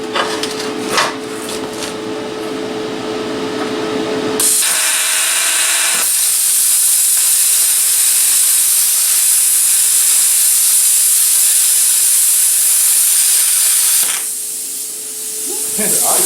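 Cheap eBay plasma cutter cutting the corner off a piece of aluminum, a loud, steady hiss that starts abruptly after some initial clatter, holds for about ten seconds, then cuts out.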